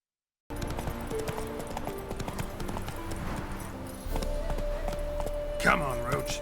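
Rhythmic hoof clip-clop of the horse Roach galloping in The Witcher 3, steady and close with dense repeated thuds, a brief whinny-like burst near the end, under game ambience.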